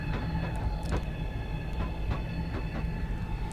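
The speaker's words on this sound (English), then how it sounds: "Yeah, this is a pantograph train, but who cares?" Pantograph electric train on the HS1 line in Train Simulator 2015, running at speed with a steady rolling rumble, a whining drone and regular rhythmic clicks from the track, heard alone.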